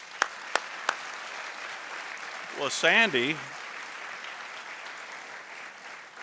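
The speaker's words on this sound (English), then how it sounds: "Please give them a round of applause." Applause from the audience at an award ceremony honoring community members, a steady diffuse patter running the whole time, with a few sharp louder claps near the start and someone briefly speaking midway.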